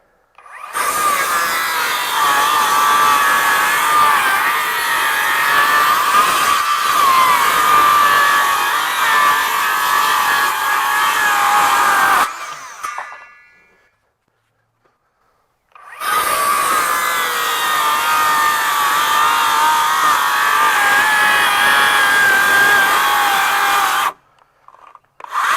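A RIDGID R8656 18V sub-compact brushless 6-1/2 inch circular saw rips through wood in two long, loud cuts, each a sustained whining buzz that stops abruptly, separated by a few seconds of silence.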